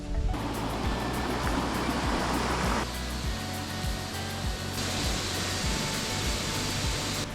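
Water from a natural spring at Buffalo Springs in Oklahoma rushes and bubbles in a steady broadband wash, close and continuous across the whole stretch, with faint clicking pops and no talking.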